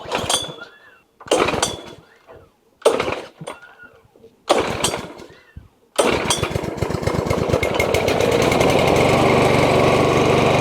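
A Dnipro-M 40/32 petrol lawn mower is pull-started several times with short sputters, then the engine catches and runs steadily, loud and close.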